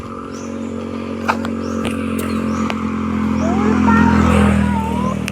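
Motorcycles pass on a road, a steady engine drone that swells and grows louder as they approach, with clatter, scraping and a few sharp knocks, fairly close.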